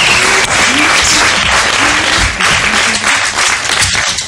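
Loud studio audience applause on a Norwegian game show, sustained and full, with a few faint voices and whoops mixed into the clapping.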